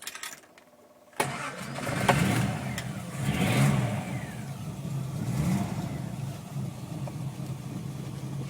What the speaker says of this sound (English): it's a lovely note of the engine.